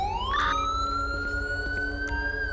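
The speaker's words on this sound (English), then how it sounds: "Let me get my siren off." A police car siren in LSPDFR wails loud and near, its pitch sweeping up and holding steady under a low engine rumble.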